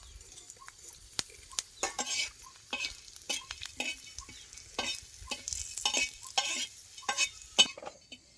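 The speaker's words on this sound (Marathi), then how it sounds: "आता आपण थोडं तेल टाकून घेऊ आता म्हणजे तेल टाकले चांगले भाजती" Garam masala roasting in a little oil for a rustic drumstick curry, heard as repeated scraping stirs with brief crackles and sizzles, close and uneven in rhythm over a quiet background.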